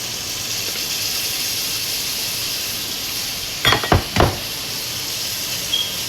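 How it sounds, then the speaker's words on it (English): Heavily seasoned goat meat and stock are poured into a pot beside cooking fufu: a steady hiss of simmering in the background, then three quick splashing pours a few seconds apart, close and moderately loud. "Just going to pour in my goat meat."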